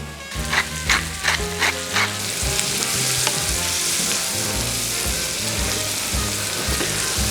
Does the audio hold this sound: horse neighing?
no